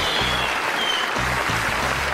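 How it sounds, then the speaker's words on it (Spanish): An audience breaks into loud, sustained applause, dense clapping filling the whole stretch without pause. "para él un aplauso grande."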